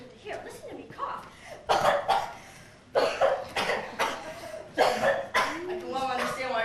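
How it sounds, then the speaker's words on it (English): A person acting in a school skit gives a series of harsh, racking coughs in repeated bursts, some mixed with throat-clearing and vocal strain, close and fairly quiet. "I've got this racking cough."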